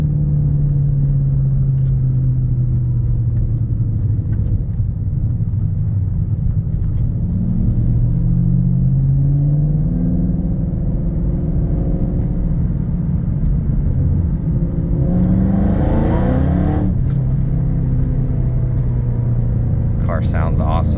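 A 2012 Ford Mustang Shelby GT500 engine rumbles steadily and loud through its exhaust with low droning tones that rise and fall, a brief whoosh of passing air near the end.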